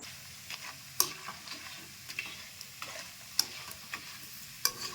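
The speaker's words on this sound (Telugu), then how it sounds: "మీ ఇంట్లో ఉండి చిప్స్ వేయించుతున్నాం వాళ్ళకి స్నాక్స్ కోసం" Potato chips frying in oil at home, with a soft continuous sizzle broken by sharp clicks and taps from stirring every second or so.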